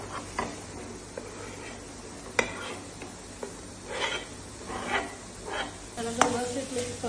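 Grated paneer frying in a pan for paneer bhurji, with a quiet sizzle under repeated spoon scrapes and light clinks against the pan, close and fairly soft.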